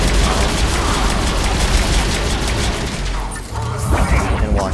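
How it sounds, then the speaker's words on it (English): Mass Effect 3 Legendary Edition combat: a grenade blast after a singularity biotic power, a loud, dense burst of explosive noise and crackling, then a short dip and further rumble, with a voice talking over it. "we're gonna just singularity and grenade that"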